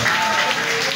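An audience in a cafe claps together in a dense, steady burst of applause, close and loud, for about a second.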